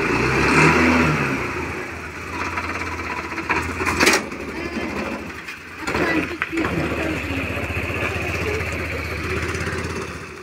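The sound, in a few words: vehicle engine revving while driving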